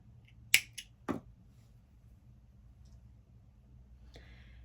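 Scissors snip bracelet thread a few times in quick succession, short crisp clicks close by, then near silence with a faint later rustle.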